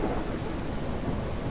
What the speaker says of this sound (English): now it's nighttime and rain.